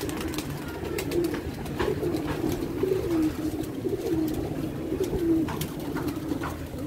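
Caged pigeons give repeated low cooing calls, near and moderately loud, continuing across the stretch with a steady murmur of other birds behind.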